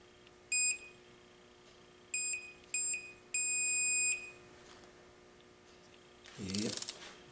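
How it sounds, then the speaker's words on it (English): A beeping torque wrench sounds as Hayabusa transmission bolts are tightened: short high electronic beeps, then a longer steady tone, followed by a brief metallic clatter, close and clear. "that's why I like that beeping torque wrench"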